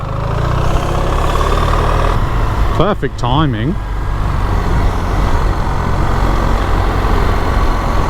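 Passing cars and steady engine noise from traffic around a motorcycle out on a road, a continuous roar running throughout, with someone talking briefly over it.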